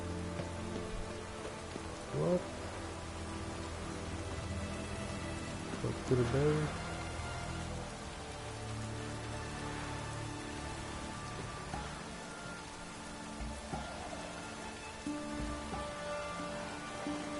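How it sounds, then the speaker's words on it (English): Rain falls in The Witcher 3, a steady soft patter under faint music and an occasional spoken line, moderately quiet throughout. "Looks like rain."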